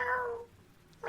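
A cat meows once, loud and close, with a second short meow starting just as the sound cuts off.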